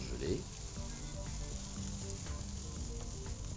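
Sliced onions and frozen green peas sizzle steadily in a hot pan, a constant close frying hiss with faint crackles throughout.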